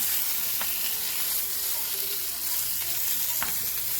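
Salmon fillets sizzle steadily in a hot pan after being flipped, a constant close frying hiss with a couple of faint clicks from the pan or utensil. No one talks.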